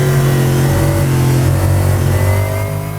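Lexus GT3 race car engine heard from onboard in a racing video game, revving steadily and loud with a sustained low drone, dropping slightly near the end, no talk.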